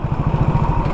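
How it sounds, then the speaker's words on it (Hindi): A motorcycle engine idles close by and fairly loud, putting out a quick, even chugging pulse of low thumps with no pause, over less than a second. "देखो अभी गाड़ी में से कितनी कम आवाज़ आ रही है,"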